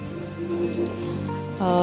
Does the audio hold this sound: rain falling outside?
yes